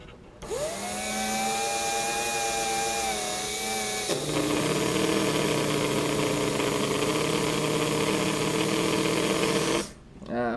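A brand new Tyco 440x2 slot car motor on a dyno test, started at low power, whines steadily with a pitch shift partway through, then cuts off near the end.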